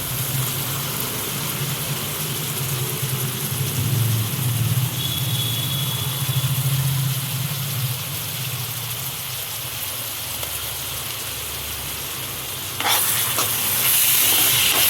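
Onions and ginger-garlic paste fry in oil for a crab curry, making a loud, continuous close sizzle with stirring scrapes. The hiss swells sharply near the end, and no one speaks.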